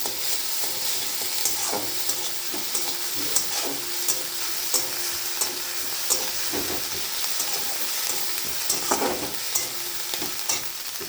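Ginger and garlic sizzle in hot oil in a pan, a dense steady frying hiss punctuated by repeated clinks and scrapes of a stirring spoon throughout.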